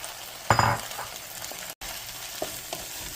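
Green beans drop into a pan of sizzling butter Dijon sauce with a sudden loud frying burst. A steady, quieter sizzle with a few light stirring sounds follows, close by and without speech.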